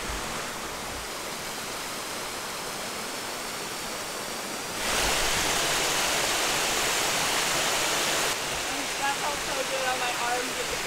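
Iceland's second tallest waterfall roars as a steady, broadband rush of falling water, growing louder partway through as it draws nearer. Voices are faintly present beneath the noise.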